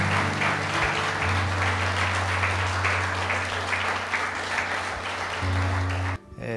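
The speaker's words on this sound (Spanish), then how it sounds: "Un aplauso para los novios," Wedding guests applaud the newlyweds at a church ceremony, a loud, sustained burst of clapping over a low steady hum that cuts off abruptly near the end.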